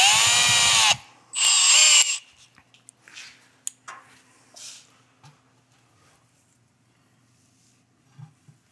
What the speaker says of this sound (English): I'm gonna position my drill right on the center of that rivet, just to guide it here initially.